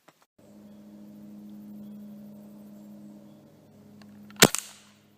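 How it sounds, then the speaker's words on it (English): A BB gun fires a pellet at an airsoft mask: a low steady hum runs for several seconds, then one sharp, loud crack with a brief clatter of impact, close by and without speech. "I decided for one last test I'd get my BB gun out again, but this time shoot it with a pellet"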